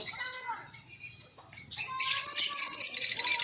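A pineapple conure parrot in a foreign bird shop calls with a few close chirps and squawks, turning into a louder, denser burst of shrill calls near the end.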